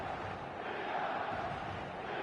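A full football stadium crowd in a video game keeps up a steady, dense roar of cheering and chanting, continuous and even throughout with no single voice standing out.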